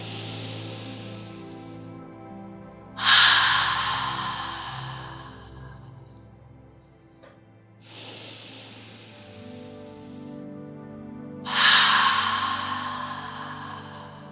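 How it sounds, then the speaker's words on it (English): Four strong, breathy exhalations through the mouth during a restorative yoga session, each a long airy rush that fades out, spaced a few seconds apart over a soft, low sustained tone. "Exhale through the mouth strongly."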